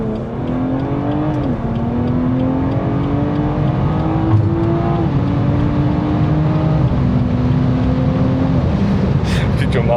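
A BMW F30 accelerates hard from a standstill, its engine note climbing through several gears with clear shift drops, loud and close from inside the car, with a voice heard briefly near the end.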